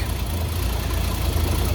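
A Ford XG car engine idles steadily up close, a constant low rumble with a faint uneven knock and no other sounds, with a smoky exhaust leak after a catalytic converter replacement.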